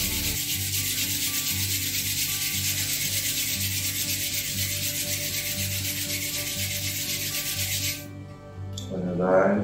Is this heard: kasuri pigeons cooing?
no